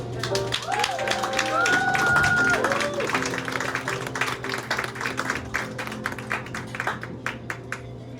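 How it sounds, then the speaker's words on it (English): Listeners at a bad love poetry reading applaud poet Ben Berg, with scattered, crisp claps from a modest crowd that rise briefly under a speaking voice and then continue on their own. "One more round of applause for Ben Berg"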